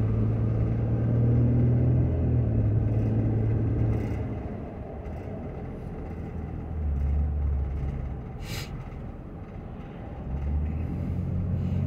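Car driving along a road near Anderson, Indiana, a steady low engine and tire rumble that swells and eases over twelve seconds with no talking.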